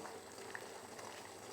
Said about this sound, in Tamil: நல்லா இந்த மாதிரி கொதிக்கணும்.